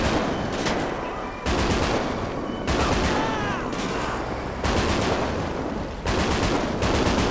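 Gunfire in GTA 5 zombie survival gameplay, dense loud bursts of rapid automatic shots with brief pauses between volleys, continuous and close throughout.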